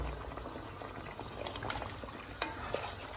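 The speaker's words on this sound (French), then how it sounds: "Et on va laisser mijoter tranquillement" Mahorais pilao, rice cooking in water in a home pot, simmers with a steady soft bubbling hiss and a few faint clinks, quiet and close with no talking.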